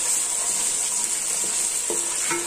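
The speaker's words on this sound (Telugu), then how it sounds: "ఈ అల్లం వెల్లుల్లి పేస్ట్ పచ్చివాసన దగ్గర వరకు ఫ్రై అవ్వాలి" Ginger garlic paste frying in a hot pan for Rayalaseema-style colour rice, a steady bright sizzle with a few soft stirring scrapes near the end.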